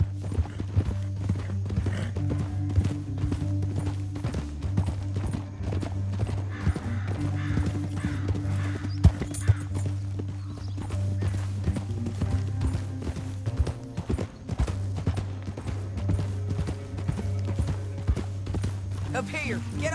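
Horse hooves clip-clop steadily in the Red Dead Redemption 2 video game, a continuous rhythmic gait under a low droning score, with someone talking over it throughout.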